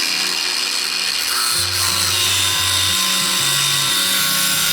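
A power tool cuts through a Honda CB500 motorcycle steel swing arm, giving a steady, close, loud grinding whine that holds throughout, with lower tonal wavering underneath.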